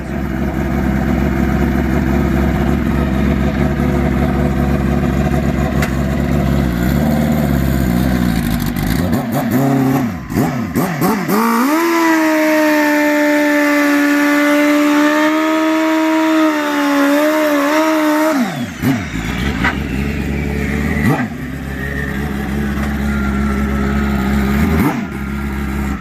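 A turbocharged Suzuki GSX-R 1000 Pro Street motorcycle engine revs hard and loud up close, with sustained high-rpm wails, a held steady pitch in the middle, and sharp blips and drops between.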